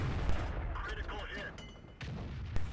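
Tank cannon fire in a World of Tanks-style game on the Himmelsdorf map, with booming shots around the start and again near the end over a rumbling engine and mechanical clatter.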